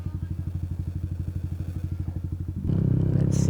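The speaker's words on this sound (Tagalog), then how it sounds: "Sumakay ka sa motor." A motorcycle engine putters in a fast, even rhythm at low revs, then the note thickens and rises as the rider opens the throttle and pulls away on a long ride through Bicol; no talking.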